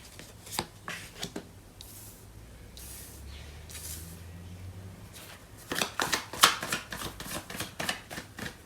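Tarot cards are shuffled and drawn, with a burst of quick papery flicks early on, a quieter stretch of soft handling, then a dense run of crisp riffling snaps near the end, all close up and without speech.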